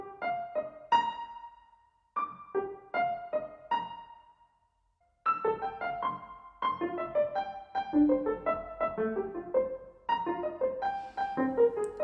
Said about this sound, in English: Something else you could do is arpeggiate the polychords.